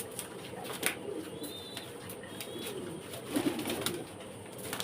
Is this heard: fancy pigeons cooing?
yes